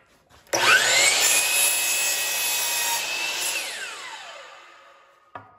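Power saw cutting a slightly wet wooden stud outdoors for a chicken coop, one continuous whining cut of about five seconds that starts abruptly, slowly fades as the blade runs through, then ends with a short knock.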